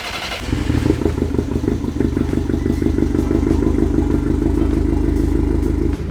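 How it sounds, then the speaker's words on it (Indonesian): A VW Polo engine idles steadily after Stage 2 tuning with a cold air intake, catching after a brief start and settling into a smooth, continuous running note close by with light mechanical clatter. "udah nyala mesinnya dan surprisingly suara mesinnya jadi lebih halus"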